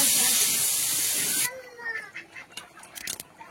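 Fish roe dropped into hot curry gravy in a home kitchen, a loud steady sizzling hiss that cuts off abruptly, leaving quieter bubbling and faint clatter.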